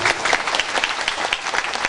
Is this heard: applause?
yes